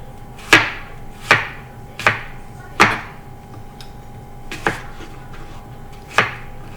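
Knife chopping through apples on a cutting board for apple crisp, six sharp, evenly spaced chops close up with brief pauses between strokes, and no talking.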